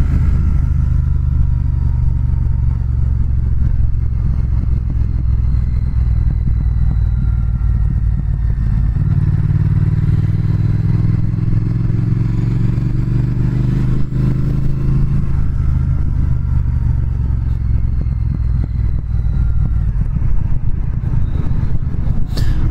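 A 2019 Triumph Speed Twin motorcycle being ridden, its engine a loud, steady low drone with a rising pitch sweep midway as it accelerates, wind rumble constant throughout.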